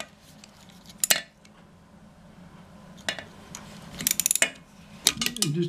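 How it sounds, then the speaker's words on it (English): Socket wrench ratcheting on a toilet seat bolt, with faint early clicks and then a close burst of quick ratchet clicks near the end, heard alone in a quiet room. "we can use this and turn it, or we can use a socket wrench, which for me will be a little easier"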